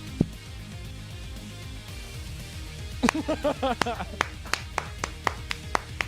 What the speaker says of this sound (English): Slow clap into the big clap.